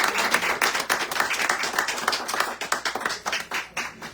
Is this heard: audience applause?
yes